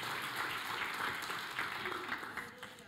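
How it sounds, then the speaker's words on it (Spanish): Church congregation applauding at a Spanish-language service, a steady broad wash of clapping that fills the space at moderate level and tapers slightly near the end. "den un aplauso de fuerte al Señor"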